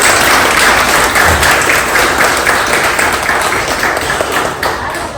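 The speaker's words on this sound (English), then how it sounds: "Applause for that." An audience at an awards event in a hotel room breaks into loud, sustained applause, a dense, even clatter of many hands that fades slightly toward the end.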